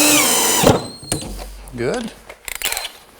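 Power drill briefly drives a pocket hole screw into a table workpiece, a short whirring burst between spoken words, with clamp and tool handling clatter around it.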